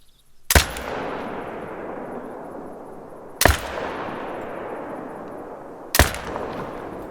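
Three loud, sharp modern rifle shots fired from a prone position in theHunter Call of the Wild, spaced a few seconds apart, each with a long rolling echo that fades before the next.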